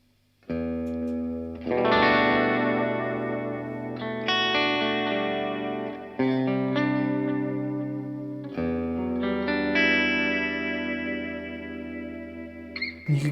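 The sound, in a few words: electric guitar through effects with heavy reverb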